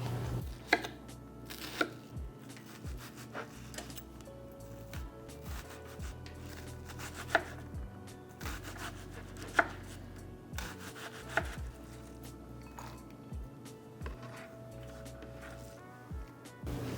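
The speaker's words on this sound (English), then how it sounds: "We're gonna slice up some garlic into thin slivers." Knife slicing garlic into thin slivers on a cutting board, a steady run of soft close-up cuts and rubbing strokes with occasional sharper taps of the blade.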